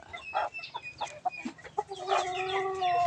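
A hen clucks repeatedly nearby in short, uneven bursts, ending with a longer drawn-out cackle; no talking.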